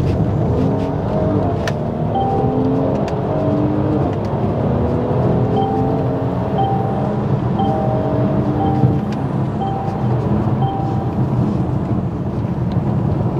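Mercedes-AMG GLC 43 engine held in first gear at about 50 km/h, a loud steady drone heard from inside the cabin, with no talk.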